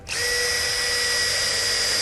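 A power drill spins up sharply and whines at a steady high pitch, boring a center hole for a hinge on a metal barn door of a compact garage shed, loud and close with no talking.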